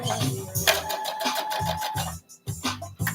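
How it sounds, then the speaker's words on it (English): A sewing machine stitches around fabric corners in a home studio, running in short rapid bursts separated by brief pauses, close and fairly loud with no voices. "we're just gonna continue sewing them corners"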